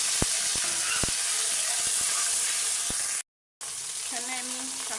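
Water poured into a pan of onions fried until reddish-brown, a loud steady sizzle with sharp crackles that cuts out briefly and then returns as a softer bubbling hiss.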